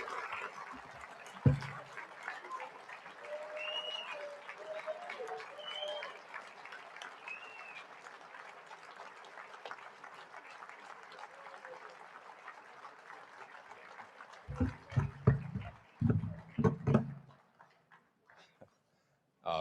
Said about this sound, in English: please stand up. Give him a round of applause